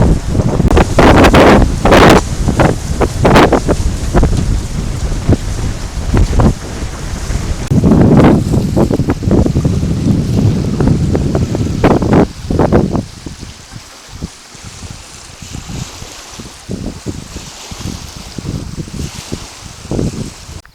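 Strong wind buffeting the microphone outdoors, loud roaring gusts for the first twelve seconds, then easing into lighter, intermittent gusts.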